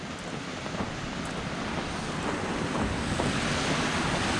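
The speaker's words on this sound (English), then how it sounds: "this is the waterfall that I was looking for" Water rushes in a steady, loud roar at the partly frozen waterfall on Amity Creek in Duluth, Minnesota, a continuous wash with no pauses and nobody talking.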